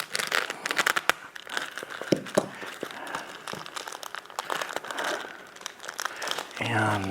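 Plastic packaging around a Plugable digital microscope is opened close up, with irregular loud crinkling, crackling and tearing bursts throughout and a person speaking among them.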